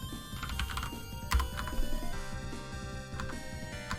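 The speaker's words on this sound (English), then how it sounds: "Wasn't typing in the right box." Quick keystrokes on a computer keyboard, clicks tapping in an irregular run over a busy musical background with no speech.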